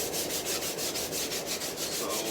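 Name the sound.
sanding glued cricket bat with 220 sandpaper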